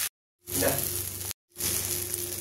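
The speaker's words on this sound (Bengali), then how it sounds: "একটু কাঁচা লঙ্কা দিয়ে নুন দিয়ে আলুগুলো ভেজে নেবো।" Potatoes frying with green chilli and salt in a home kitchen, a close, steady sizzle in two bursts broken by a short silent gap, with a low hum beneath.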